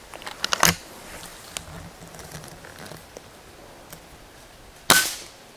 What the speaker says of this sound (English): So I have taken 6 shots instead of 5.